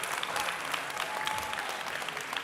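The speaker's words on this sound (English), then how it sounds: "Can we give them a round of applause, guys?" Conference audience applauding, steady dense clapping from many hands filling the room for the full stretch, fairly close and even in level, with no talking over it.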